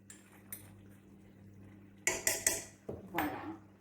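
Beef, aubergine and carrots with herbs stirred together in a pan, a few quiet clinks early on, then a short close burst of spoon scraping and clanking against the pan, no talking.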